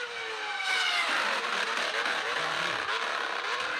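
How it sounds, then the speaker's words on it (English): A Formula 1 car engine with a blown diffuser screams at high revs, loud and sustained, its pitch sweeping up and then holding a hard, rasping wail with no voices. "That's the blown diffuser."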